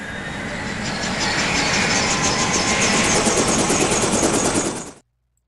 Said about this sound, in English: So let's launch our helicopter and take him out.